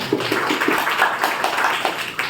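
Applause from an audience at a Brahma Kumaris spiritual gathering, a steady mass of hand claps running continuously, moderately loud and close, with no voices over it.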